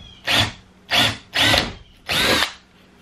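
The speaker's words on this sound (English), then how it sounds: "I need to drill two holes in the corner here." A power drill bores holes into a metal corner in four separate whining bursts, each about a third of a second long with short pauses between, loud and close.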